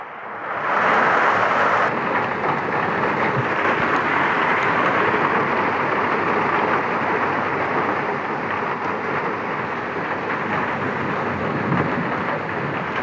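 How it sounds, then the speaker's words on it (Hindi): Heavy rain and thunderstorm in Muzaffarabad, Azad Kashmir: a loud, dense, continuous roar of pouring rain with a deep rumbling undertone, starting abruptly and holding steady throughout. "बहुत तेज़ बारिश है, अभी मैं बाहर नहीं निकल सकता"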